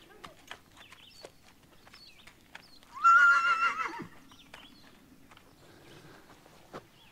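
A two-year-old draft horse, left alone in its stall, gives one loud, long whinny, with faint hoof clops and bird calls around it.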